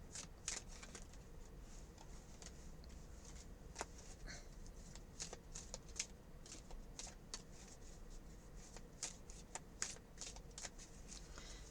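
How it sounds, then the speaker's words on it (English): Tarot cards being shuffled close up: quiet, repeated riffling and soft slaps in an irregular rhythm, with no one speaking. "I'm just shuffling up these cards."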